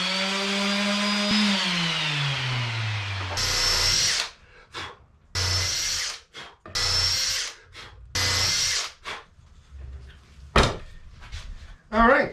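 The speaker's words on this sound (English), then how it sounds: "Give that a little bit of a sanding," A power sander works a small wooden knee for a hanging locker in a wooden boat restoration, running in several short, loud bursts with pauses between, after a motor whine drops in pitch at the start.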